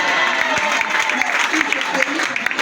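A church congregation claps loudly and continuously, a dense wash of applause from a large crowd that holds steady for the whole stretch.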